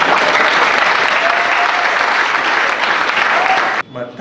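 Steady, dense applause from an audience at a lecture gathering, loud and continuous for nearly four seconds before cutting off abruptly, followed by a brief quieter tail.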